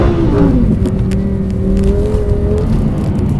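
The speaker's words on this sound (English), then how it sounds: "It's just outrageous that you're driving out here on an ice bed in a bloody Lamborghini." A Lamborghini drives sideways on an ice track, its engine holding a steady loud drone with gently rising and falling pitch and the whir of spinning tyres, close and continuous with no talk.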